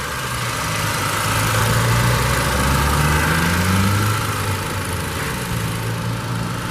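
A 2017 Volkswagen Golf TSI S with a 1.8-liter turbo four-cylinder engine idles steadily at close range, a smooth low hum with no talking over it.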